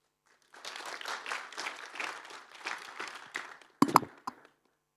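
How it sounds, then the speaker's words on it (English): Short, moderately dense applause from a small conference audience rises after a pause and runs for about three seconds, with a couple of loud close thumps near the end before it stops. "Big applause."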